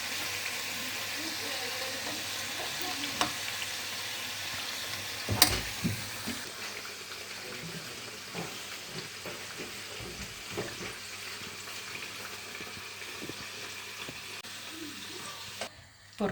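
Dough twist rolls deep-frying in hot oil for Diwali sweets, a steady close sizzle and bubbling throughout with occasional stirring clinks and a sharper clatter midway.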